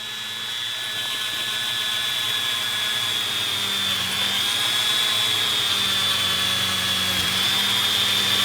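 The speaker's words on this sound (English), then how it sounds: "If your polishing wheel gets too dirty, wipe it off on a cloth" Polishing wheel buffing a Glock trigger part during a trigger job, a steady loud whirring motor drone with a high whine that stays continuous throughout, no talking.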